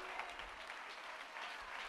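A church congregation at Philadelphia AG Church claps together in a dense, steady patter, heard faint and distant throughout, with no voices on top.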